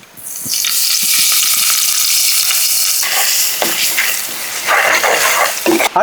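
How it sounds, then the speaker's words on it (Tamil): Mustard seeds, ginger and garlic hitting hot oil for a crab rasam, bursting into a loud, close, sustained hiss that shifts as the spices are stirred, ending with a few sharper crackles. "இப்போ நாங்கள் ஒயில் ஊற்றிடுவோம் கொஞ்சமாக கடுகு சேர்த்துருவோம் வச்சு இஞ்சி வெள்ளை பூட சேர்த்துருவோம்"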